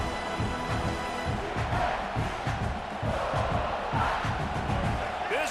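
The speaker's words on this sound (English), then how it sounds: "Crowd bringing the energy and noise early." A large stadium crowd at a football game roars and cheers continuously, a dense wall of voices swelling with excitement, sustained throughout.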